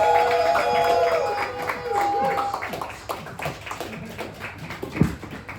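Audience applause for comedian John Grimes at a comedy night at Barzarre in Wilmington, NC: scattered clapping and crowd noise, with some tonal sound early on, fading into lighter taps and a final sharp clap.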